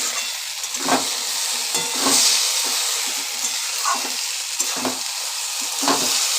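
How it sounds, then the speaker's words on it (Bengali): Egg chow mein tossed in a pan with sauces: a loud continuous sizzle with repeated rhythmic scraping strokes of a spatula, close up and without talk. "এবার আমি ভালো করে এর সাথে নাড়াচাড়া করে নেব।"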